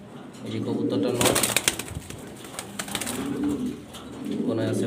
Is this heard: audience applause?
no